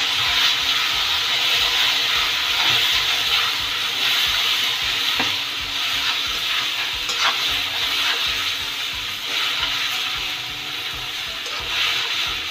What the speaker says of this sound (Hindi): इसे हम चलाते हुए अच्छे से थोड़ा ब्राउन कर लेंगे